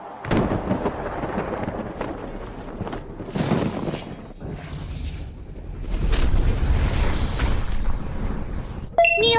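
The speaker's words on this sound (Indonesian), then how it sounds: "menghancurkan petir kesengsaraan ini" Lightning tribulation being destroyed in a fantasy animation, heard as a series of heavy booming explosions and crackling impacts of uneven loudness, with a sharp bright burst near the end.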